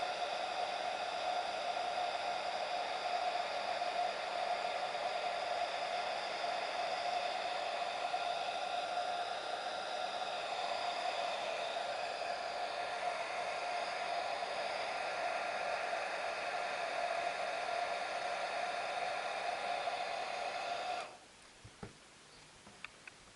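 Steady airy roar of a heat gun warming an epoxy coating to lift out dents, continuous and close for about twenty seconds before it cuts off, leaving faint taps.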